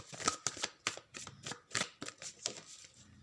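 Tarot cards being shuffled by hand, a quiet, close series of crisp riffling snaps in an uneven rhythm, with no speech over them.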